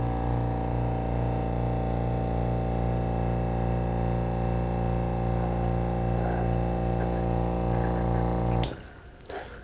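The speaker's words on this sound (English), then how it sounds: "Turn on our vacuum and pull that to waste." A lab vacuum pump runs with a loud, constant humming drone that has steady tonal whine, pulling liquid through an extraction cartridge to waste, then cuts off abruptly near the end.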